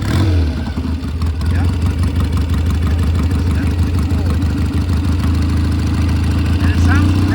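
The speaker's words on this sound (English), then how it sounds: "Was that a cold start? Yes. That was a cold start?" A 1971 Triumph Bonneville cafe racer idles after a cold start, a loud, steady, close throbbing engine running throughout while people talk briefly.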